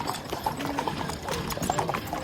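A horse walking outdoors with a rider, hooves clip-clopping in a quick uneven rhythm at moderate distance, with faint background voices.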